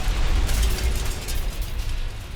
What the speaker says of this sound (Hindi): कुपियांस में रूसी आर्टिलरी का भीषण हमला।